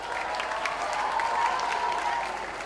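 A school audience claps for Farhan Akhtar in a dense, even round of applause that swells slightly and then holds, with no voices over it.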